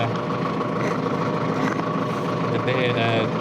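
A farm tractor's engine idles steadily with a low, even rumble while a trailer is hitched for carting second-crop bales. Speech seems to run over the engine noise.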